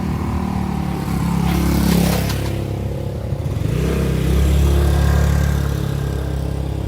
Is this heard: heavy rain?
no